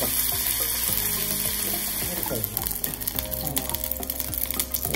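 Meat pieces hit a hot pan with their marinade for a Thai-style beef strips dish, giving a steady, loud sizzle with scraping stirs mixed in. No one speaks.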